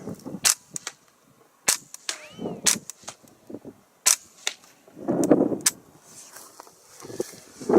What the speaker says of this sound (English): Because it's so quiet, you can hear the bolt actually slide back and cycle.